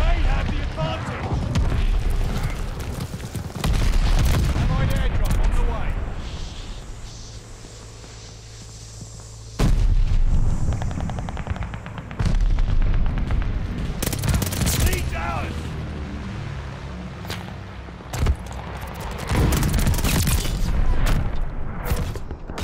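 Bombing run in the World War II shooter Call of Duty: Vanguard, with heavy explosions booming in bursts amid rattling gunfire and mechanical clatter, loud and close, with brief lulls between blasts.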